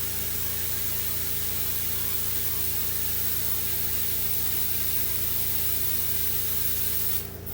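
An air blower roars in a steady, unbroken hiss while inflating an EquiSpirit horse play ball, loud and close, with a brief change in tone right at the end.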